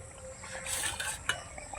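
A spoon stirs chital fish curry with potatoes and shola kochu in a pot, giving a short run of soft scraping and clinking, with one sharper knock against the metal near the end.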